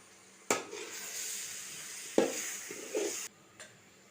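Mutton masala being stirred in a pan for biryani: two sharp scrapes of a spoon against the metal over a quiet, steady sizzle, followed by a few softer scraping stirs, close and fairly faint.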